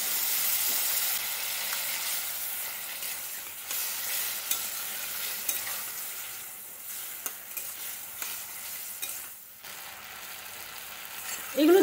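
Potato and flat bean curry with tomato and added water frying in a pan, a steady soft sizzle and hiss with occasional stirring scrapes, fairly close and continuous with no talk.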